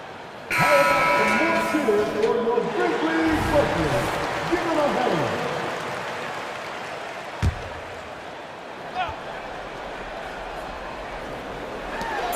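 Buzzer sounding in an e-basketball video game match as a shot goes in, with crowd cheering and game noise swelling loudly at first, then settling into steady arena roar with a couple of sharp thumps; a commentator talks throughout.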